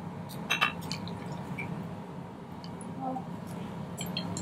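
Titrant drips from a burette into a flask during a titratable acidity titration, a few small, sharp drips and clinks spaced irregularly over a steady low room hum.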